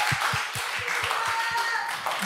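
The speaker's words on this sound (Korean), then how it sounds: "박수로 환영해드리겠습니다." A group claps in welcome at a church-style gathering, strong rhythmic unison claps about four per second, close and loud, with a faint voice underneath.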